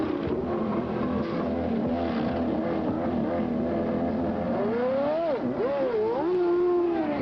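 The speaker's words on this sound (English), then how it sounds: "Listen to that engine rev." A CART Indy car engine at Mid-Ohio in 1991 roars steadily nearby, then revs up and down in rising and falling sweeps toward the end.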